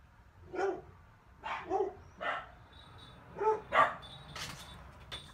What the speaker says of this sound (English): Oh, excuse the dog.